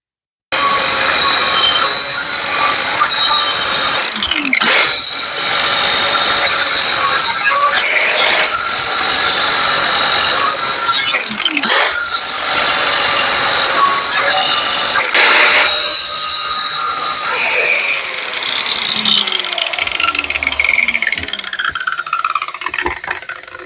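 A thin-wall steel driveshaft tube is cut in a home workshop, a loud, harsh, continuous metal grinding and rattling with brief dips in between, tapering off at the end, and no talking.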